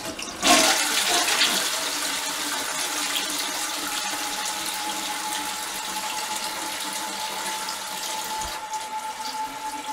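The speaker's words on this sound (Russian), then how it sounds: "Лер, спусти еще раз воду" A household toilet flushes loudly and close by, the rush of water starting abruptly and then settling into a steady, continuous swirl and refill that runs on for several seconds without any talking.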